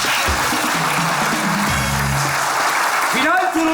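Studio audience applause on a Turkish retirees' game show, a continuous wash of clapping under a voice that talks through it.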